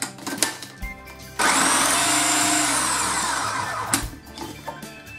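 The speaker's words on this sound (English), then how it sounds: "I'm just gonna blend those for a bit to start breaking them down" A food processor blends chickpeas for hummus, starting with a few short pulses and then running at a loud steady whir for about two and a half seconds before stopping.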